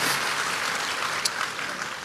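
A church congregation applauds during a sermon, a steady broad wash of clapping from many hands that continues throughout, moderately loud with a few sharper claps standing out.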